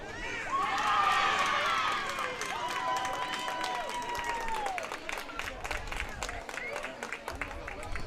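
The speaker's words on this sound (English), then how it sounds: "Valley is cheering for something." A crowd cheers and shouts at a Class A state tournament baseball game. Excited voices swell at first and then settle into ongoing crowd noise, with scattered claps and people talking nearby.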